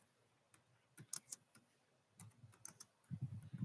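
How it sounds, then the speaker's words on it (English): Keys on a computer keyboard clatter in short irregular bursts of close, fairly quiet clicks, with soft low thumps toward the end and no talking. "I'm typing in the chat now."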